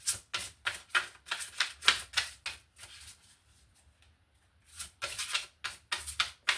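Rapid riffle of cards being shuffled, two bursts of crisp flapping separated by a short quiet pause, close up.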